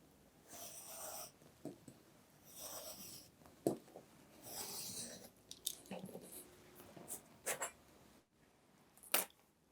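Scissors cut through bookbinding paper in several short, crisp snips and rustles, quiet and close, with soft handling noises between the cuts.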